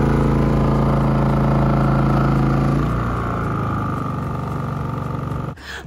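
Portable generator running at an RV campsite to power a 1700–1800 watt air fryer: a loud, close, steady droning engine hum that holds evenly, then cuts off abruptly just before the end.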